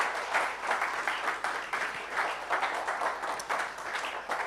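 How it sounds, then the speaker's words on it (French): Applause from a church congregation, a steady wash of many hands clapping with slight rhythmic swells, moderately loud throughout with no talking. "J'aimerais aussi qu'on vous applaudisse aussi."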